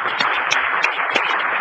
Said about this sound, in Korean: 여러분 박수 한번 쳐볼까요?